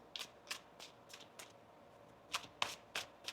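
Tarot cards being shuffled, crisp riffling bursts repeating in an irregular rhythm, close and faint with no talk.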